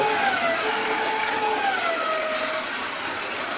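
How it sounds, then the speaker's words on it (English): A racing car engine in a video game drones at high revs, its pitch sliding down as it shifts, steady and loud with no talking. "Your car sounds crappy, but it goes well, huh?"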